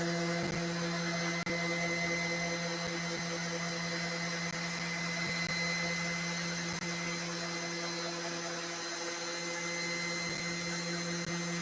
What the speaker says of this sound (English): we've got a nice, fine, affordable vacuum cleaner in that one